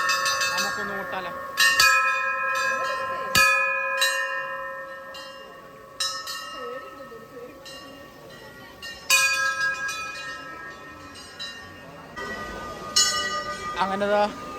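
Metal temple bells at the BAPS Hindu Mandir in Abu Dhabi are struck repeatedly. Several bright, ringing strikes overlap and sustain long decays, with faint crowd voices in the background.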